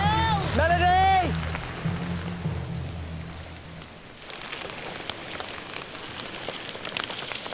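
Torrential rain pours down at night in an outdoor camp, a steady dense hiss of rain on surfaces that follows a loud voice shouting at the start.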